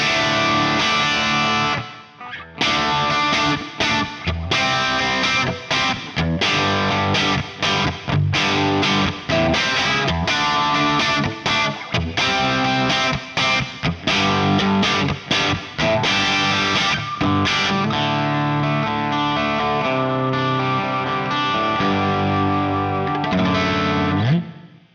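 Electric guitar through a Two Notes Le Clean preamp in hot fusion mode, channel A cascading into channel B for extra gain: a driven, slightly distorted tone with chorus-like shimmer playing busy riffs and chords continuously, loud and upfront.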